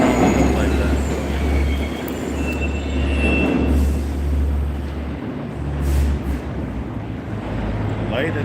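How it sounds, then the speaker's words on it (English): A New York subway train rumbles into an underground station with a steady low roar and faint wheel squeal. Voices murmur in the background. "catch the 4 or the 5 train because it's express"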